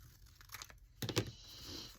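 Scissors cut through paper for a large envelope pocket in a few quick, close snips and crinkles, with a sharper crunch near the middle and a quiet pause before it.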